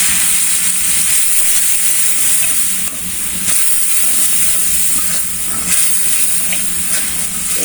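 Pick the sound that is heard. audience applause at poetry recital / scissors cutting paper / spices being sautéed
spices being sautéed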